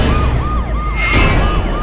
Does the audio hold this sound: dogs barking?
no